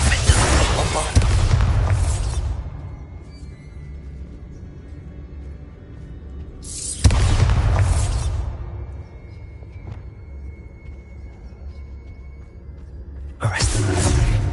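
Three heavy booming blasts from the Bombarda spell in Hogwarts Legacy, spaced several seconds apart, each a loud close burst that rumbles and decays over a couple of seconds amid quieter game ambience.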